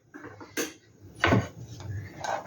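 Sugar stirred into boiling milk in a pot, a few distinct metallic spoon clinks and scrapes against the pot spaced apart over a quiet bubbling background.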